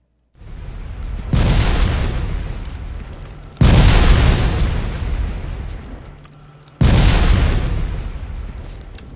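Three heavy booming explosions in Factorio, modded with Bob's Mods, go off one after another, each a loud sudden blast with a long rumbling decay, and no voices.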